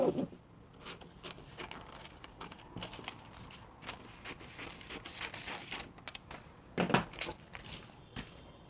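Scissors cutting a paper bustier bodice pattern, a series of faint crisp snips and rustling paper crinkles at an uneven pace, close by.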